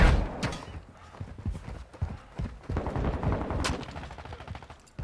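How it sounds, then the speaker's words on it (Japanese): Gunfire echoes in Call of Duty: Modern Warfare II, with sharp irregular shots and mechanical clicks that fit a weapon reload, all fairly quiet and close. "それ、リロード"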